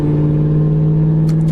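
A 1000hp Jeep Trackhawk SUV accelerating hard, a loud sustained whining engine drone heard from inside the cabin, steady throughout.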